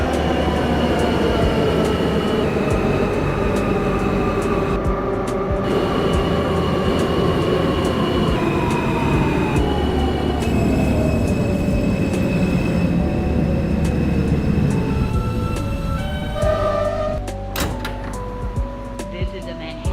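Manhattan-bound NYC subway Q local train in the OpenBVE simulator, running between Neck Road and Avenue U: loud continuous rail roar with wheel hum and a rising then falling motor whine that eases off near the end.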